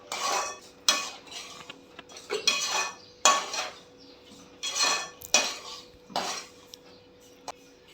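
A rava besan ladoo mixture of semolina and gram flour is stirred and roasted with ghee in a pan, giving repeated scraping and clinking strokes of a spoon against the metal in uneven bursts, fairly close and with no talking.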